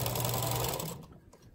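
A sewing machine runs steadily, stitching a 1/4-inch quilt seam over floss, with a loud, continuous hum that stops abruptly near the end and leaves faint handling noise.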